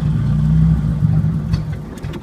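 A 1980 Chevy Luv engine with a plugged carburetor, running only on the accelerator pump: a loud, rough, close mid-pitched drone that wavers and fades slightly.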